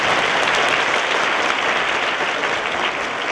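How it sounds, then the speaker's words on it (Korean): Steady, dense applause from a lecture audience at a university forum, filling the room evenly for a few seconds without a break or any voices standing out. "박수 부탁드립니다"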